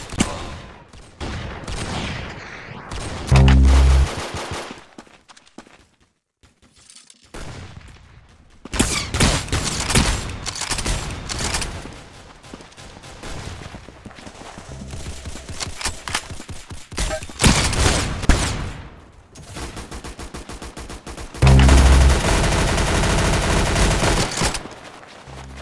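Video game gunfire rings out in bursts of rapid automatic shots and single loud cracks, separated by quieter gaps of game sound.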